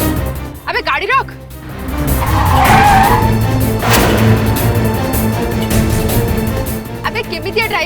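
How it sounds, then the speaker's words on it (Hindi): A car skids to a stop with a loud tire squeal rising over engine rumble, while people speak before and after. "अबे गाड़ी रोक।"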